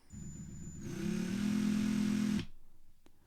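A Ryobi cordless drill runs up from a slow whir to a higher, louder spin as the trigger is squeezed harder, then holds a steady whine for about a second before cutting off abruptly, with a faint click afterward.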